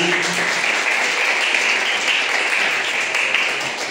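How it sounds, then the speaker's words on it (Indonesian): A crowd gives sustained applause at a church gathering, the clapping dense, steady and fairly loud for the whole stretch, with no one talking over it. "Beri tepuk tangan bagi Tuhan."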